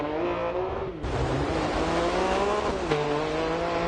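Metro 6R4 Group B rally car engine in Dirt Rally 2.0 on a gravel stage in New England, USA, roaring steadily with gear changes around one and three seconds, loud and close with tire noise, no talk.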